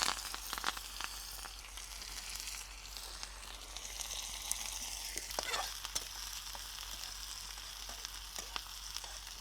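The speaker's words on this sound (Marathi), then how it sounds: "हे तेल गरम झालं, कांदा टाकतो।" Onion drops into hot oil and fries with a light crackling sizzle, marked by scattered sharp pops and a brief burst of stirring in the middle, fairly quiet and close, with no talking.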